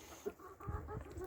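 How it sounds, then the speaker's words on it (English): Backyard chickens clucking softly nearby, a few quiet scattered clucks over low background noise. "I do spoil my chickens"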